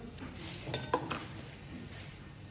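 Garlic paste and cumin paste frying in a pan, a steady sizzle with a few soft scrapes and clinks of a stirring utensil against the pan, no voices.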